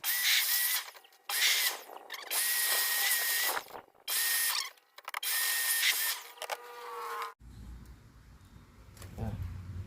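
Air blower pushing a loud, steady rush of air into a hole drilled in a washing machine being cleared of ants, in several long bursts with short breaks, ending in quieter low rumbling.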